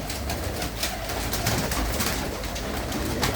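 Pigeons kept by a fancier from Tarn Taran coo steadily over a dense, constant background hiss, their low throaty calls overlapping without pause.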